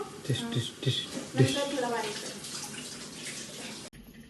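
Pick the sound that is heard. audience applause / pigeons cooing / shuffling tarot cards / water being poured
water being poured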